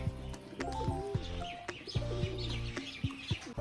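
A Rajshahi pigeon in courtship display coos in low, throaty repeated phrases, close by, with a few brief chirps and soft clucks mixed in.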